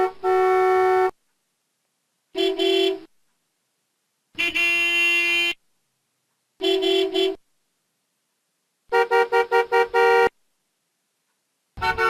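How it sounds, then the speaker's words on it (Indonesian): Car horn honks in several separate blasts, some long and steady, others short and repeated in quick bursts, loud and close with silence between each. "Terus bagaimana bunyi klakson mobil?"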